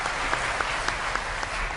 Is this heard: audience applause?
yes